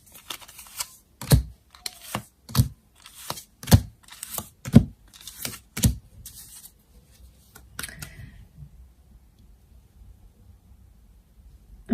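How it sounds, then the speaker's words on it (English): Tarot cards laid out one after another onto a surface, about eight crisp slaps and flicks at a steady pace, close and clear, then quiet. "Let's lay out some more cards,"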